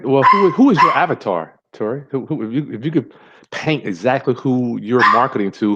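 A dog barks and yips repeatedly in the background while people hold a conversation, the barks mixed in with and partly masked by the talking.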